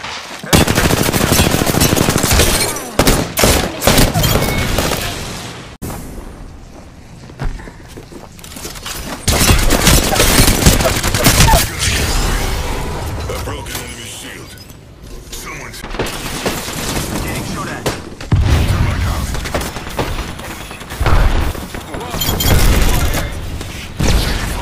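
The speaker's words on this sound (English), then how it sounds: "I'm spotted, taking fire." Gunfire in the battle royale game Apex Legends: dense, loud bursts of automatic weapon shots and booming impacts, nearly continuous with brief lulls, mixed with game sounds and in-game voice callouts.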